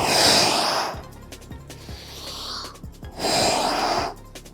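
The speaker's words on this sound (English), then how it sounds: "we're gonna steadily exhale powerfully" Two forceful, breathy exhalations demonstrating a swimming breathing technique, each about a second long, loud and close, separated by quieter breathing and small sniffs.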